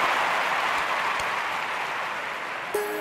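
Crowd in the London 2012 video game bursting into steady loud applause and cheering at a stadium throwing event, a dense wash that fades slightly over a few seconds.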